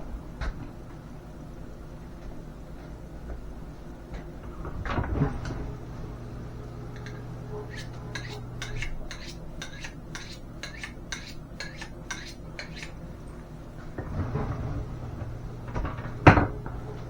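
Cupboard doors and drawers clatter nearby, with a run of quick metallic clinks like utensils and pans being shuffled, then a final sharp knock.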